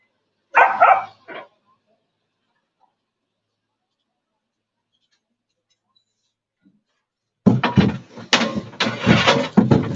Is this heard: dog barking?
yes